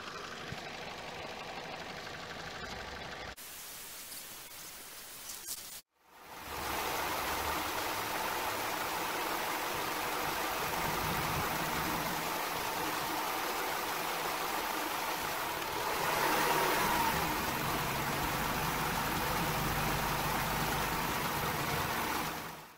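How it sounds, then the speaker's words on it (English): A 2006 Vauxhall Corsa engine loses its crankshaft position signal, so a rough running drone cuts out abruptly and then returns to a steady, fairly loud hum that shifts in tone partway through. "the engine and the engine note will also change as it tries to recover from a complete loss of what would appear to be a crankshaft position sensor"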